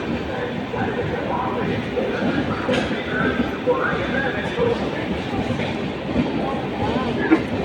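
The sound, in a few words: train arriving at platform 1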